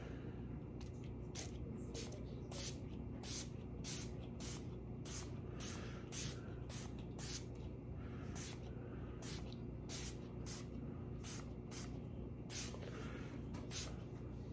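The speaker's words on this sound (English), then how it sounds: "So I'm gonna go ahead and spray this." Abrasive paste is sprayed onto a wooden, elliptically convexed razor hone in a quick run of short, close hissing spritzes with brief gaps between them.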